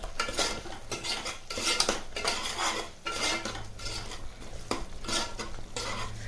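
A spoon stirs and scrapes through rice mixed with salt, fresh mint, coriander and green chilli in a frying pan, with steady repeated metal-on-pan strokes over a faint sizzle and no talking.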